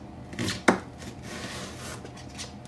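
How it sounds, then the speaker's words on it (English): A knife chops through halved, rubbery leeks on a board, with a couple of close, sharp strikes, one especially crisp, over quiet kitchen background. "And then start chopping it."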